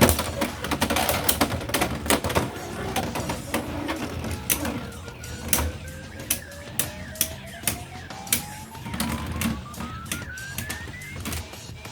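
Beyblade tops from the UX-05 set battling in a stadium, with a steady busy whir and a gliding rising tone as they spin, broken by a string of sharp clacking collisions.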